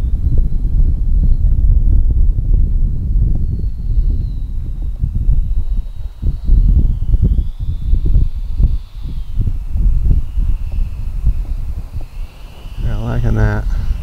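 Gusty wind buffets the microphone at an RC airfield runway, a loud low rumble rising and falling throughout, with a faint model aircraft motor whine in the background.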